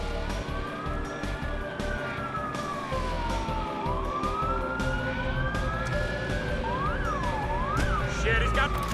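A police car siren in the video game Watch Dogs wails in long rising and falling sweeps over steady engine and traffic rumble, loud and continuous.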